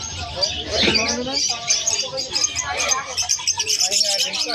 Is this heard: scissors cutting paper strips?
no